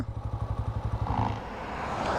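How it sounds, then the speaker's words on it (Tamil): A 125cc sports bike's engine idles with a rapid, even putter, then cuts out from its idle start-stop system, leaving only faint background noise. "ஸ்டாப் பண்ணால் கொஞ்சம் நேரத்தில் பைக் இன்ஜின் ஆஃப் ஆயிரும் நியூட்ரல் பண்ணியாச்சு பைக் ஆஃப் ஆக போகுது இப்போ"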